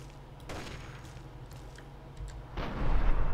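Gunfire in the Fallout 3 video game, a few sharp shots in the first half followed by a louder, heavier burst near the end.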